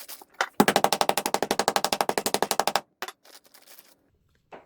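Rapid, evenly spaced thuds of a meat mallet pounding pork loin into thin cutlets for breaded tenderloins, about twenty loud blows in a steady burst, then a few scattered knocks and scrapes.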